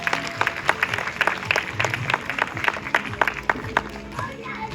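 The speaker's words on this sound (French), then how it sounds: "on peut applaudir la jolie Nora pour sa jolie démonstration" Zoo audience clapping after a sea lion show, a scattered round of applause from a modest crowd, fairly close, mixed with some talking.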